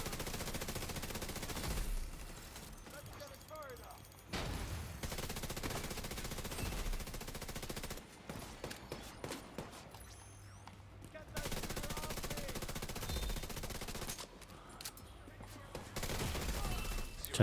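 Enemy blind-firing gunfire in the video game The Division 2: long, dense bursts of automatic fire that stop and start in several waves, loud and sustained, with brief quieter gaps and some talk in the background.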